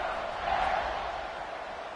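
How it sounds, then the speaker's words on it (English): A football stadium crowd at a Baylor versus BYU college game roars as a steady, loud, broad wash of cheering that holds for two seconds without a break. "this crowd now ready to get behind them"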